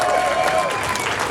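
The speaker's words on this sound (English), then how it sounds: "Let's give a hand of applause to all the vendors who came out and" A crowd at a vaping expo event claps for the vendors, a loud, dense burst of applause with a few voices mixed in, filling the short moment without letup.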